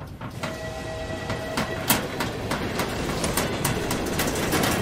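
Train rumbling past in the horror video game Find Yourself, a steady rolling roar with repeated sharp clacks and a brief high tonal squeal, fairly close and continuous throughout.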